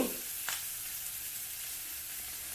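Onions frying in hot oil with salt, a continuous close hiss and crackle of sizzling with a couple of brief stirring scrapes near the start, steady throughout and no voices.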